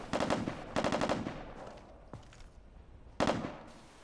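Automatic gunfire in the America's Army: Proving Grounds video game comes in rapid bursts, two close together and another after a pause, with a faint single shot in between.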